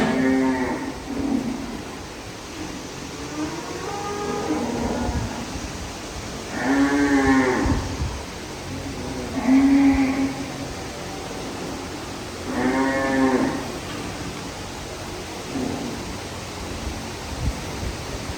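Several very large cattle at a Bangladeshi dairy farm moo at spaced intervals, each call a low, resonant bellow, with steady background noise between them.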